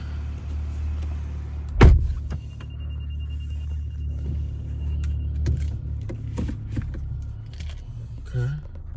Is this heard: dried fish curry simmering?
no